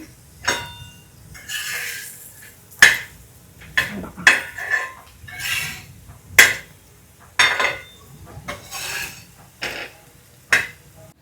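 Potato slices are flipped in a pan for a Konkan-style dish, a series of separate metallic clinks and scrapes from a utensil against the pan, spaced every second or so over a quiet background.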